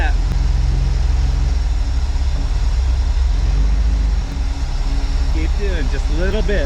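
A rock crawler buggy's engine rumbles loudly and steadily on light throttle off-road, a low continuous drone while someone talks over it near the end.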